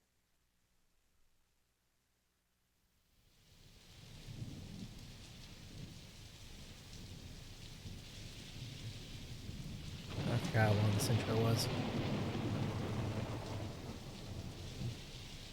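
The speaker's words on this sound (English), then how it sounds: "That's rain." Recorded rain and rolling thunder from a song intro play back after a short silence. A steady hiss of rain builds, and a louder rumble of thunder swells midway. A voice speaks briefly at the very start.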